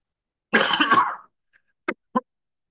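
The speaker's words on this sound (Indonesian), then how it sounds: "Sorry, batuk." A woman coughs once in a harsh burst during a church talk, followed by two short throat-clearing coughs after a brief pause, close and alone without speech.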